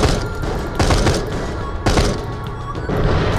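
Bursts of gunfire in the video game Borderlands: The Pre-Sequel, several loud thumping volleys in quick succession over a dense rumbling background.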